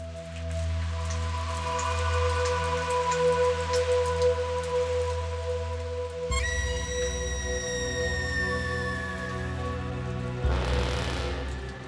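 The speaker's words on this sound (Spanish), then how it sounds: "por fin llueve en la dehesa" Autumn rain falls on the dehesa after a hot summer, a steady patter of drops under soft tonal background sounds that shift partway through.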